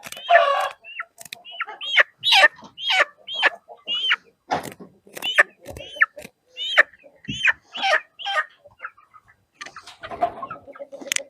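Hens and roosters in a poultry yard with ducks cluck and squawk in a busy, uneven series of sharp calls, close by, with short pauses between bursts.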